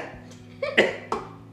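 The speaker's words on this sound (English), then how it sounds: "That's making me cough so bad." Three or four short, harsh coughs come in a quick fit, close and loud, during a gross food challenge.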